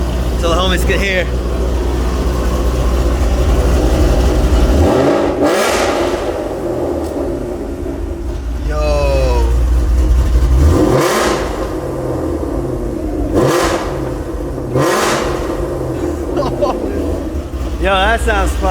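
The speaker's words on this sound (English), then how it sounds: "I'm about to give it some revs" Cammed Ford Mustang GT500 with a Corsa Xtreme exhaust revs repeatedly, loud and close, with sharp throttle blips rising over a rumbling idle while people talk nearby.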